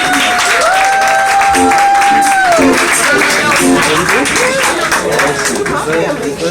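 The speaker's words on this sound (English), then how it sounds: "So clap it up for them guys real quick." An audience claps and cheers under an excited voice, the applause steady and close throughout.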